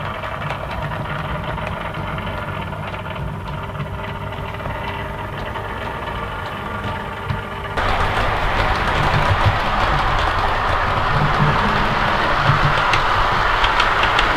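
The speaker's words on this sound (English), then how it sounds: "running perfectly fine and smoothly, however there is definitely some motor noise going on" A Bachmann 4-CEP model train in London & South East Sector livery runs steadily around a layout, its motor whirring with a constant hum and faint rail clatter that grows louder and brighter partway through, with no talking.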